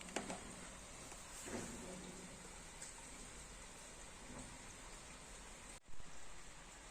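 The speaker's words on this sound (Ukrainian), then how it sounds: "У нас сьогодні дощ на вулиці крапає." Steady, faint rain patters outside in a continuous hiss, with occasional louder drips and a brief knock near the end.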